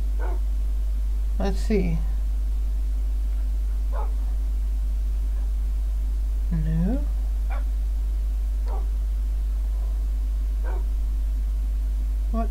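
Dogs in a video game give several short barks and yips spread across the stretch, set over a constant low hum, while a person talks quietly at moments.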